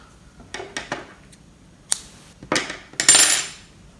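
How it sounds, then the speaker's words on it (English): Scissors snipping yarn during crochet work, a handful of short, crisp metallic clicks and snips in an uneven sequence, close and fairly quiet. "and cut the yarn."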